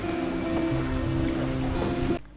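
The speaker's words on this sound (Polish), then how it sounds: "rytmiczny ruch wiosła naszego przewoźnika" Small boat on the water in the Mekong Delta, steady close wash of water and a droning motor-like hum that cuts off abruptly at the end.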